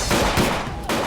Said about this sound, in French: Il y a eu de nombreux coups de feu,